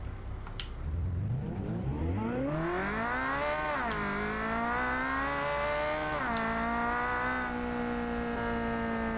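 An AI-designed car in a driving video game starts up and revs hard, engine pitch climbing in long rising sweeps with gear-change dips, loud and close throughout with no talking.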